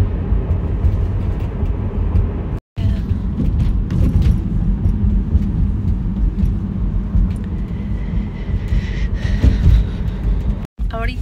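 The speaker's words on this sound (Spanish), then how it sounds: "Han prestado el coche para ver cómo nos sentimos, cómo se siente manejando" Car cabin during a test drive on a loaned car: a steady low engine and road rumble runs throughout, briefly cutting out twice, with people talking over it.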